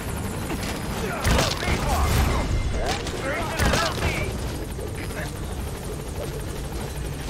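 Pequod, a transport helicopter in Metal Gear Solid V: The Phantom Pain, approaching a landing zone with a loud, steady rotor roar throughout and a few sharp bursts layered over it.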